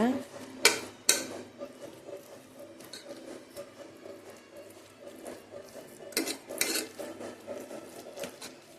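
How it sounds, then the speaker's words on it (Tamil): Cooked dal mashed with a wooden churner in a pot, with scraping and knocking against the vessel, a few sharper clanks at the start and near the end, and softer rubbing in between, close up. "இது மத்து போட்டு கொஞ்சம் லைட்டாக கடைஞ்சிருங்க"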